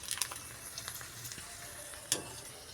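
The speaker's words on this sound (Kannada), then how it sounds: "ನಾನು ಇದನ್ನು ಹಾಕಿ ಕರ್ಕೊತೀನಿ ರೀ" Panipuri puris frying in a small kadai of hot oil, a faint, steady sizzle with scattered crackles and one sharper pop, no talking.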